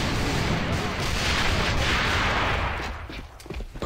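A grenade goes off in a military shooter video game, a loud close blast with a dense rumbling roar that holds for about three seconds before breaking into scattered cracks and debris.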